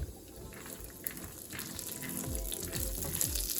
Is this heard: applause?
no